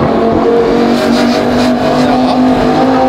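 A Lamborghini with a $10,000 aftermarket exhaust revs loudly and steadily up close, a dense, continuous roar with a faint voice underneath.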